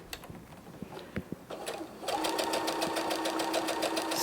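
A sewing machine stitches a welt pocket, starting in short separate needle taps and then settling at about two seconds into a steady, fast, close running whir.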